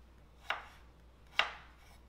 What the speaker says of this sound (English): I'm just going to finish cutting up these potatoes